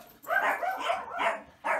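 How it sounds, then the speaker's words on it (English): A dog barks repeatedly in quick, close bursts, several sharp barks with short gaps between them. "Excuse the dogs."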